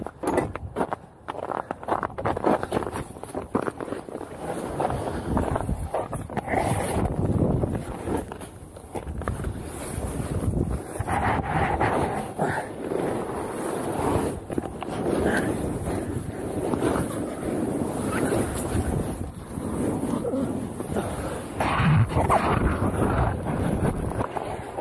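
Strong gusty wind during a wind advisory out on the ice while ice fishing, a steady rushing roar with buffeting bursts against the microphone and some handling noise.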